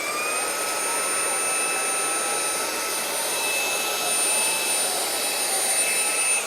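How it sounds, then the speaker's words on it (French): A Xiaomi Dreame V9 cordless vacuum cleaner runs at maximum power over a carpet, a loud, steady high-pitched whine with a constant airy hiss, close by and heard alone. "Je vais mettre l'aspirateur au niveau maximum, un seul passage, et on va voir ce qu'il est en mesure de ramasser."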